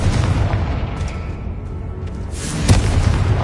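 A Confringo blasting spell explodes in the Hogwarts Legacy video game, a loud, full-bodied boom with rumbling low end, followed by a second sharp burst near the end.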